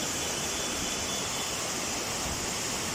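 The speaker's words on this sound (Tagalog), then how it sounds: "and that is the falls." Nimbalot Falls pouring steadily, a dense, even roar of falling water that fills the whole clip without pause or voices.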